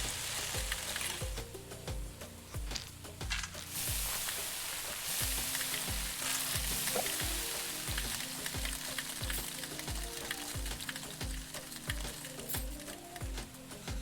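Spices and onions sizzle in a frying pan in the cooking video game Venba, a steady crackling fry under a regular, repeating low musical beat that runs throughout.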